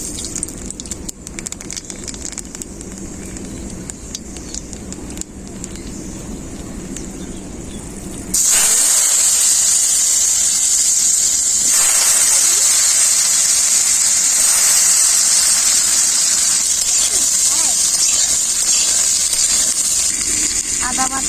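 Nigella seeds dropped into a little hot oil for a Bengali fish and potato curry, setting off a sudden loud, steady sizzle that hisses on evenly after a quieter stretch of talking.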